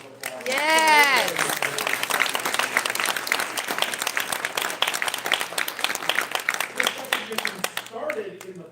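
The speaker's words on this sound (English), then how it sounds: "can we give them a round of applause?" An audience applauds students at a school community gathering, with dense, steady clapping that goes on for several seconds and a speaking voice over the start.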